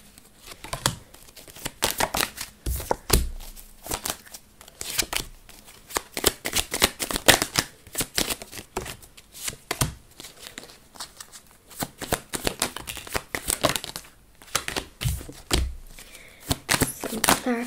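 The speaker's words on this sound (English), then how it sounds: "I still stand by that, even though I'm getting some of these cards out." A deck of tarot cards is shuffled up close in repeated crisp riffling bursts and flutters, with short pauses between runs and no speech over it.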